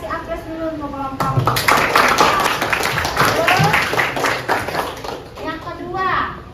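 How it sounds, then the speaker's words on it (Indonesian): A classroom group of students claps and applauds together, a dense burst of many hands lasting several seconds, with children's voices and chatter mixed in around it. "Untuk jawaban pertama kita kasih aplaus dulu untuk kelompok"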